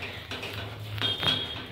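A utensil stirs butter, garlic, egg and oregano in a pan, giving soft, scattered scrapes and a few light metallic clinks over a low steady hum.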